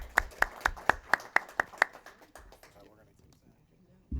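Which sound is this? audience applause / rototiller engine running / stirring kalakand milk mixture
audience applause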